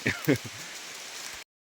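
Heavy rain pours outdoors during a rural mushroom-foraging outing, a dense steady hiss that begins under a man's brief speech and then runs alone until it stops abruptly.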